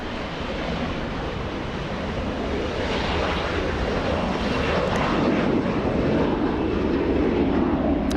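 A jet airliner takes off at LAX, its engine roar a loud, sustained broadband rush that builds slightly over several seconds, steady and close with no voices over it.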